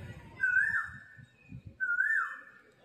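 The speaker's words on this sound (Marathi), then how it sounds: "आतापर्यंत कोकिळा आवाज करत होती कुहू कुहू" An Asian koel calling two rising, whistling notes, fairly close and clear, separated by a short pause, over faint low background murmur.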